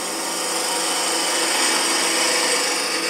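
Lathe cutting a dovetail for chuck jaws with a slightly inclined parting tool on a wooden goblet, a continuous bright hissing scrape with steady whine, loud and unbroken for a few seconds.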